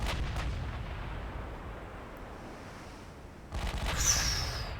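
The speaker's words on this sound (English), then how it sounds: "These are, of course, firing standard shells, not super heavy shells." Main guns of a battlecruiser in a naval warfare game fire standard shells, heard as a deep, booming salvo that rumbles and fades, followed by a second loud report near the end, with no voices.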